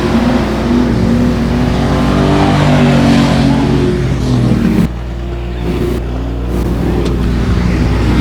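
Race cars at 281 Speedway roar through a turn, their engines a dense, loud droning rumble with layered pitches. The sound thins abruptly partway through as the pack moves on, then surges briefly again.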